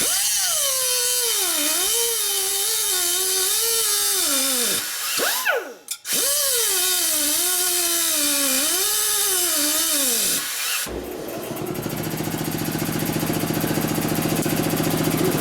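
A non-aluminum cutting wheel on a power tool whines loudly into 1948 Harley panhead engine parts, its pitch dipping and recovering as it bites, briefly stopping, then giving way to a harsher, steadier grinding roar.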